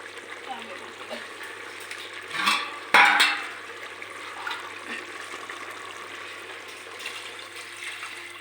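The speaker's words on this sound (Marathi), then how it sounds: "आता याच्यात मी पाणी ओतणार आहे." Water is poured from a vessel into a pot of biryani gravy, a short splashing gush lasting about a second amid quiet kitchen background, with someone speaking faintly nearby.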